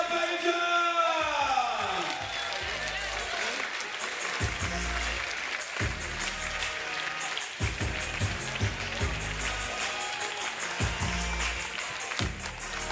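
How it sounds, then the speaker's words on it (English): Crowd applause and cheering for Team Azerbaijan, women's runner-up at the FIBA 3x3 Europe Cup 2025 finals in Copenhagen, steady clapping with whoops and shouts and an announcer's voice over the top. "A big round of applause for Team Azerbaijan"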